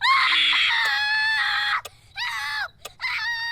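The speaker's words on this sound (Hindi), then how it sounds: "अचानक 2 मासूम बच्चों की चीखें झंझोड़ देती हैं मुझे" Two young children scream in a village in Bijnor, loud piercing high cries that rise and fall in long bursts with short gaps between them, no talking.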